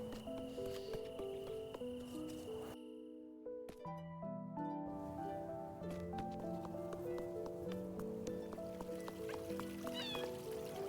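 A cat in the video game Little Goody Two Shoes meows several times over steady background music, soft and close, with a brief dip in the music partway through.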